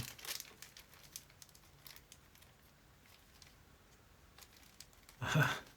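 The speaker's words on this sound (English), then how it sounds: "This plastic bag is now greasy. It doesn't want to open." A greasy plastic bag of parts for a Prusa MK4 3D printer assembly crinkles quietly in intermittent bursts while being opened close by, ending in a louder rustle.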